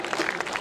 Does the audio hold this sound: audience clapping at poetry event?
yes